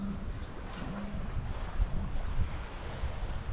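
Wind at about 15 knots and building waves at sea, heard aboard a sailing boat heading downwind off Norway, a constant roaring wash of wind buffeting the microphone with surging water and low thumps, no voices.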